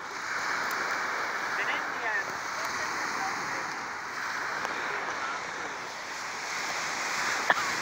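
Steady ocean surf washes onto a beach on a cool day, a continuous broadband roar with a few faint clicks and brief knocks from handling, no clear voices.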